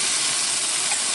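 Onion and leek sweating in oil in a pan for a lemon chicken dish, a steady soft hiss of sizzling filling the short stretch without pause or voices.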